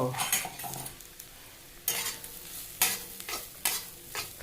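Grated coconut sizzles and crackles as it is roasted in a hot pan while a spoon scrapes and stirs in repeated strokes, close up with no talking.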